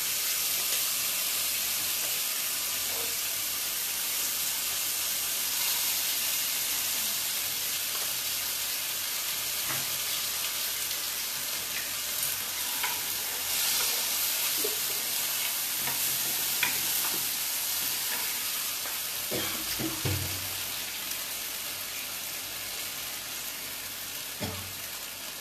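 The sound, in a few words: ginger, green chilli and tomato paste frying in pan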